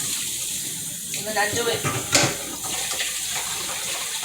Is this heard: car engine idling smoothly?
no